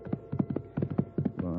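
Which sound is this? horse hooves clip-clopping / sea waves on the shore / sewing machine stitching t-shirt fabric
horse hooves clip-clopping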